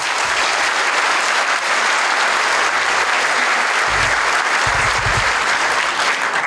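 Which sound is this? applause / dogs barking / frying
applause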